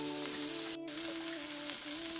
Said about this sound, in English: And let that saute. Get at least the onions start getting golden brown